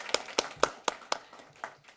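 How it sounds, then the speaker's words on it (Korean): Sparse clapping at a Samcheok city council budget committee session: a handful of sharp, separate claps in a loose rhythm, close and fairly clear, fading out after a couple of seconds. "박수 한번 쳐주세요"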